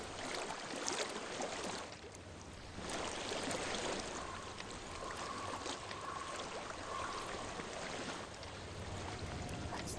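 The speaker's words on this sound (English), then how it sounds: "I hear water." Flowing water in the Hellblade: Senua's Sacrifice video game, a soft steady rushing stream held at low level throughout with faint tonal hints, no talk.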